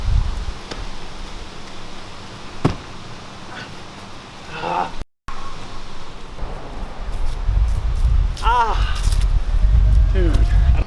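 Gusty wind outdoors at a muddy parkour filming site, a broad rushing roar buffeting the microphone and building toward the end, with voices talking over it.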